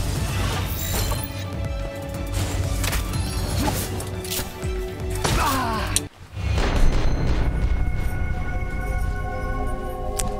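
Gunfire from the Palworld video game: a dense, continuous stream of loud game-mix shots and impacts over music, with a brief sharp cut near the middle before the noisy action resumes.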